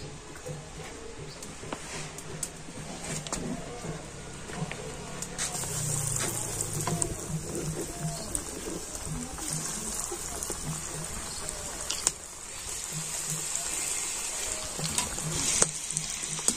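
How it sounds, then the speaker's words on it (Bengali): Egg and potato kebabs deep-fry in medium-hot oil, bubbling in a continuous soft hiss that swells midway, with occasional clinks and a voice talking faintly underneath. "মিডিয়াম গরম করে এবার আমি এই ডিম আলুর কাবাবটা ভেজে নেব।"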